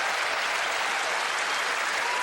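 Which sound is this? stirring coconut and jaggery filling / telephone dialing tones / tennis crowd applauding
tennis crowd applauding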